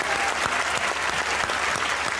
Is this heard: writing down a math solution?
no